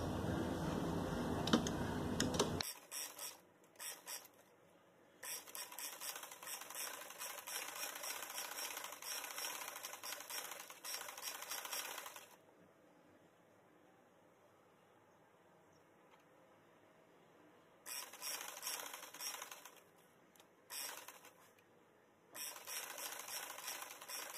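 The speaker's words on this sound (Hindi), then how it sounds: "यहाँ से आधा आधा इंच अंदर रख के हम सिलाई शुरू करेंगे" A sewing machine stitching umbrella-style bell sleeve fabric runs in quick mechanical bursts, a long run, a pause of quiet, then two shorter runs, close and clear with no talking.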